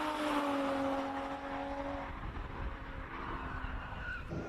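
A BMW 325iS race car tackles a Cape Town hill climb, its engine tone rising and shifting at high revs as tires squeal and skid, loud and close before fading slightly.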